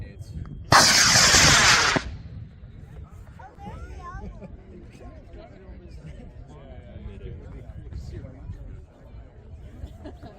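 A high-power model rocket on an H-195 motor lifts off at a sport launch with a sudden loud roaring whoosh lasting about a second, then fades into outdoor crowd chatter and cheering.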